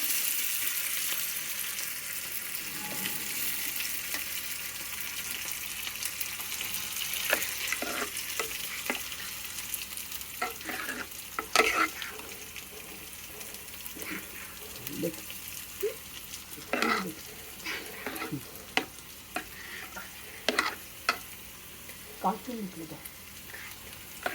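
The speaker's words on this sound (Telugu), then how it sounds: "చేసుకుని చివరిలో పోపు పెట్టేస్తే" Tempering for bachali dal sizzling steadily in hot oil while a spoon stirs it, with scattered scraping clicks close by over a constant soft frying hiss.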